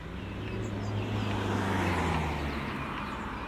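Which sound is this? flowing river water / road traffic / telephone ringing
road traffic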